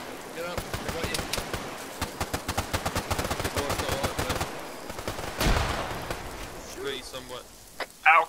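Rapid bursts of gunfire in a multiplayer shooter, sharp shots rattling in quick succession for several seconds before thinning out, with players talking over the fighting.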